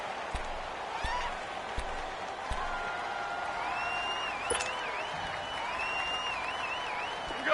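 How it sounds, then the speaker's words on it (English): A domed stadium crowd in an American football video game keeps up a steady roar with scattered claps and thumps. Faint whistle-like tones rise over it partway through. "The crowd here in the Dome making things difficult."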